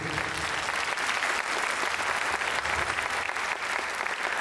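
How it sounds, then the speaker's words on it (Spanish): Sustained applause from an audience, an even, full roar of many hands clapping throughout, heard at a moderate distance. "Venga el aplauso con ganas."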